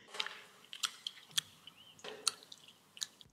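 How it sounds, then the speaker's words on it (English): Gum chewed loudly in a film scene: wet, squishy smacks arrive at irregular intervals, about seven or eight distinct close chomps over a quiet background with no talking. "the sheriff is still just going at that gum"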